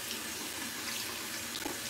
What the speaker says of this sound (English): So I'm going to rinse with cool water